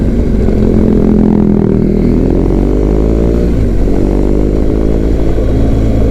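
BMW R 1200 GS touring motorcycle coasting downhill off the throttle on a road toward a ferry port, a loud close engine drone with a deep rumble and shifting harmonics as revs slowly change, plus heavy wind noise, no talking.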